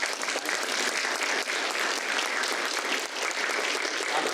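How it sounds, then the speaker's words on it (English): A community health gathering's audience breaks into steady, full applause, dense clapping from many hands sustained evenly throughout without pause. "Let's give her just very quickly a quick round of applause for this facility"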